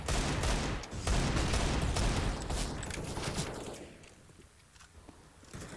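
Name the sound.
gunfire in Counter-Strike esports match (video game)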